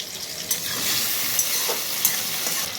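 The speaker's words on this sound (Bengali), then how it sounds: "টমেটোটা ভাজা ভাজা হয়ে গেছে" Tomatoes fry in a pan with a steady bright sizzle and a few clicks of stirring, heard alone with no voices.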